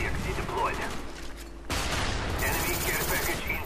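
In Call of Duty Black Ops, gunfire rings out in a multiplayer match as loud, dense bursts of rapid shots with a brief lull in the middle. A voice talks over parts of the shooting.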